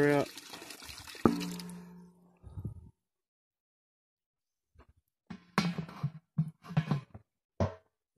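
Water sloshes and pours from a gold pan after a day of crevicing for gold, a close splashing trickle for a couple of seconds, followed by silence and then someone speaking.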